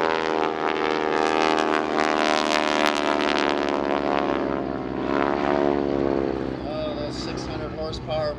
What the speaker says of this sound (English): 600-horsepower prep 40 engine pulling that aircraft through the skies.